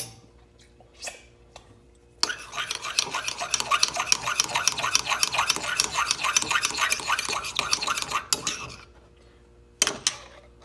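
A spoon stirring mayonnaise into a spicy sauce in a dish, making a steady run of quick, close scraping and clinking strokes for several seconds, with brief taps before and after.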